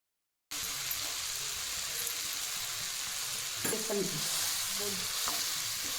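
Mango pieces for sweet-sour gulamba stirred in a pan, a soft continuous sizzle with a few louder scraping stirs midway, close and fairly quiet, no talking.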